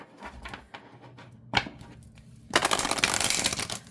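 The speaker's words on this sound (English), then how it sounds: "I'm going to start off trying to shuffle side by side this way." An oracle card deck is shuffled side by side, with a few soft riffled slaps and then a dense, steady flurry of crisp card-on-card rustling, close and clear.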